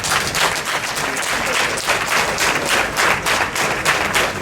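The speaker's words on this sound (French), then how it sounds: "Et je vous prie d'applaudir." An audience at a Beninese crafts awards ceremony applauds, a dense, loud burst of many hands clapping continuously with a pulsing, uneven rhythm throughout.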